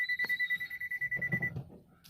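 A rapid, steady electronic parking-sensor warning beep from a Baleno car pulses about nine times a second, fairly quiet, with a faint rumble underneath before the beeps stop.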